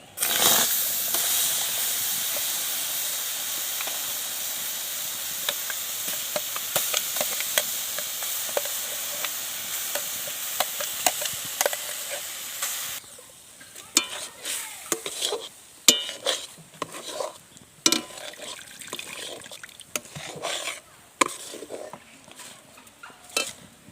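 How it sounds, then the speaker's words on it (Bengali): Amla mixture for Bengali amla hajmi being stirred in a hot pan: a steady hiss and sizzle at first, then a spoon scraping the pan in irregular, close, fairly loud strokes. "এবার আমলকিটাকে খুব ভালোভাবে আমি নেড়ে দেব।"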